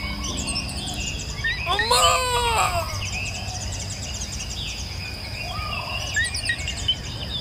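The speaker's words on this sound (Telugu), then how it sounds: "ఇక్కడ పిచ్చుకల సౌండ్ బాగుందన్నా" Sparrows chirp outdoors in nature, a burst of twittering calls over a thin steady insect-like hiss, with a few fainter chirps later, moderately distant.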